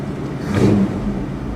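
A vintage Chevrolet engine with a Turbo 400 automatic transmission revs briefly, a short mid-pitched surge that swells and falls back into a low, steady rumble, heard close up without talk.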